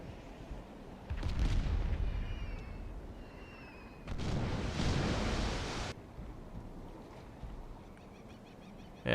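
A battleship's main guns fire in the naval video game Steel Ocean, each salvo a loud, low, broad blast that rumbles for a second or two. Two heavy booms stand out over a constant wash of sea and engine noise.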